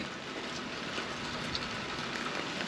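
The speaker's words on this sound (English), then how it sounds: "Been raining quite steadily." Steady rain from Hurricane Ian falls continuously, a dense even hiss of drops spread across the whole clip with no voices.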